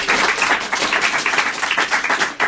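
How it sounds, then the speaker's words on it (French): A studio audience on a French TV talk show applauds in a dense, steady burst of clapping that lasts the whole stretch, loud and close with no voices over it. "Applaudis quand même, Claude"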